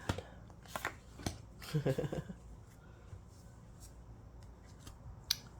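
Tarot cards are shuffled and laid down, giving quiet, close rustling riffles and a few light taps and slaps on a surface, with scattered soft handling noises between them.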